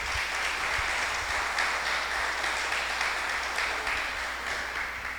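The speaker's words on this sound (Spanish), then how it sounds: "Vamos a brindarle un fuerte aplauso a nuestros invitados especiales de esta mañana." Sustained, dense applause from a church congregation welcoming special guests at a morning service, loud and even throughout with no voices over it.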